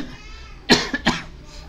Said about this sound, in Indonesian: Maaf batuk ya, udah umur